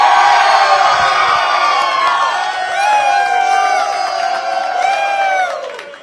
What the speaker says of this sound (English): A lively crowd here at Rounders in Tuscaloosa